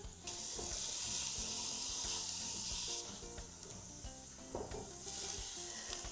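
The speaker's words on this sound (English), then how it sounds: "we're just going to saute this until the onions are soft" Chopped onions sauté in a pan over medium to medium-low heat, a steady bright sizzle hissing throughout, broken by occasional clinks and scrapes of stirring, fairly close with no talking.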